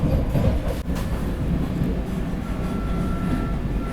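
Train rolling past at a railway station at night during the monsoon rain, a steady close rumble of wheels and carriages filling the scene, with no voices.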